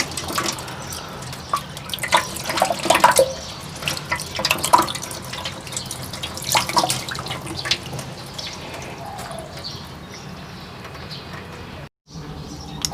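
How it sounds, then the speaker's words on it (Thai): Food being washed under running tap water, with steady splashing and dripping from a faucet into a sink, busy and close at first, then quieter with a brief silent gap near the end. "ล้างสะอาดสามน้ำเลยพี่น้อง"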